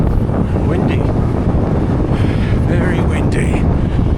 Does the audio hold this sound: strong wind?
yes